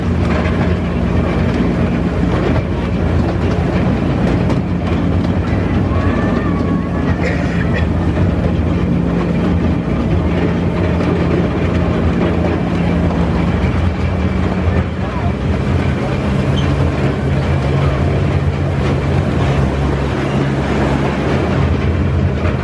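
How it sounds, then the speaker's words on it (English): A fast-moving amusement park train ride at Tayto Park rumbles and rattles steadily for the whole stretch, with a constant clatter and low rolling noise and voices talking over it. "it's a fast moving train"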